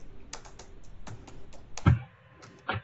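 Fingers tap on a computer keyboard in irregular bursts of crisp, close clicks, with a couple of heavier key strikes near the end and no talking.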